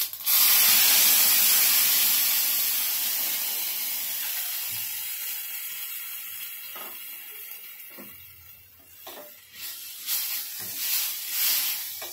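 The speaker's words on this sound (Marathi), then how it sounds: "आता इथे तेल तापलेलं आहे आपलं। आता आपण राई, जिरं आणि हे टाकून घेऊया।" Mustard seeds, cumin and other spices are dropped into hot oil for a Rajasthani garlic chutney, giving a loud burst of hissing sizzle that slowly fades, followed by faint crackles and a few pops.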